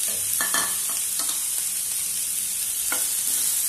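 Vegetables with cumin are sautéed in a pan for an ivy gourd chutney, a steady soft sizzle beneath a few distinct scraping stir strokes that come and go.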